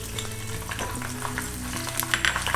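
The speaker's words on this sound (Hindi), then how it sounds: "अब इसमें हम हरी मिर्च कटी हुई और ये अदरक स्लाइस की हुई" Sliced green chillies and ginger hiss and crackle in hot ghee in a kadhai as a tempering is made, a steady close sizzle with faint stirring, with no talking.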